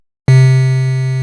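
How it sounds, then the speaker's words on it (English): A Roland S-1 synthesizer in step draw mode sounds a single sustained note after brief silence: a triangle-like tone laced with buzzy, metallic overtones, steady and close. "What you hear now is a triangle wave with metallic sounding overtones"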